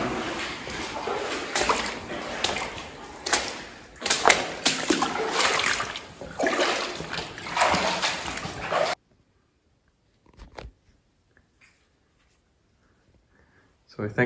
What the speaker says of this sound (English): walking through the water and everything